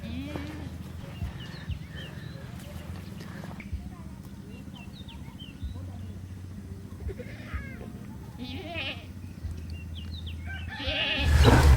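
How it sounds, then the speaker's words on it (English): A baby goat in a village bleats several times, with short wavering cries over a low rumble of background activity and indistinct voices. "Baby goat, kambing kecil."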